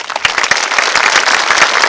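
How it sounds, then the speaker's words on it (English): Loud, dense applause fills a high school commencement ceremony, many hands clapping steadily with sharp individual claps standing out throughout. "I ask that you please join me in a round of applause for all of these wonderful people"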